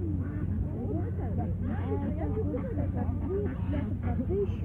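Ducks at an outdoor poultry market in Uzynagash, Almaty region, quacking in a busy scatter of short overlapping calls, near and moderately loud, over a low constant hum and background voices.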